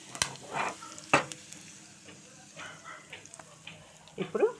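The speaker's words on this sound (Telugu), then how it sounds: "కరివేపాకు వేస్తున్నాను" Curry leaves drop into hot oil while tempering a green-chilli gongura chutney, giving scattered sharp crackles and pops that come and go at a fairly low level, with no talk.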